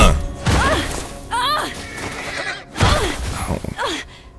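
A horse whinnies several times, loud and close, with thumps and crashing noises mixed between the neighs, in the video game The Last of Us Remastered.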